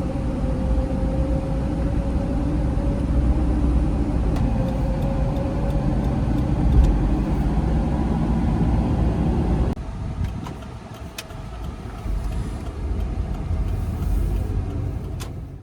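Steady road and engine noise from inside a 2003–2009 fourth-generation Toyota 4Runner on the move, a continuous low rumble that turns quieter and thinner partway through, with no talking.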